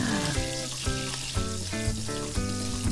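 Hot cooking oil sizzles steadily in a pan for pork steak, a close, continuous crackling hiss with a few brief metallic clinks of the pan along the way and no talking.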